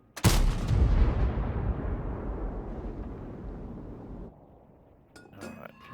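Single loud tank cannon shot in a tank video game featuring the M48 Patton: a sharp, heavy blast followed by a long rumbling decay, then faint clinking at the end.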